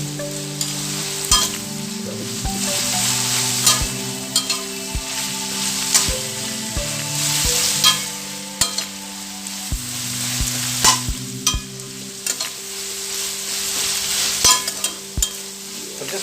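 Carrots, onions and green chilies sautéing for lo mein in a hot pan, with a loud, steady sizzle and repeated spatula clacks and scrapes at an irregular pace, close and alone.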